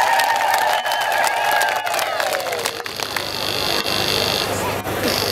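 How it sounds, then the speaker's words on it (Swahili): An audience at a rally welcoming a member of parliament in Kyerwa breaks into clapping and cheering, a dense crowd wash with whoops, loud and sustained, following a tone at the start. "Naomba mwapige makofi."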